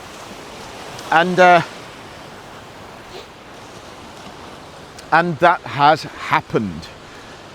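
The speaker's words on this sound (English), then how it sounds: "The waves are coming in to get me here, guys." Surf rolls steadily onto a shore, a broad continuous wash of ocean waves with wind, while someone talks over it in two short bursts.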